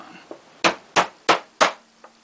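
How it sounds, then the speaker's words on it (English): Four sharp metallic hammer strikes drive out a roll pin from a CZ vz. 82 pistol, landing in steady rhythm, close and crisp, with a couple of lighter taps before and after. "I'm going to have to hammer it the rest of the way out"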